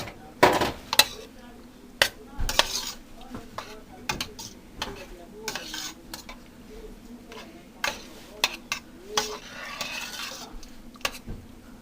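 A spoon stirs ragu sauce into a beef casserole in a pot, giving irregular metallic clinks and scrapes against the pot with soft sloshing, close by.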